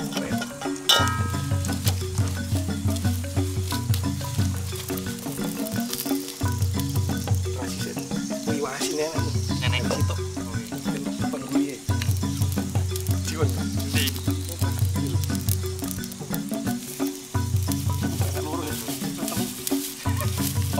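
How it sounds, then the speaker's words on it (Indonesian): Spice paste (bumbu) sizzles and fries in a pan for about twenty seconds, a continuous crackling hiss with a low throbbing hum underneath that cuts in and out. "Lanjut kita goreng bumbunya"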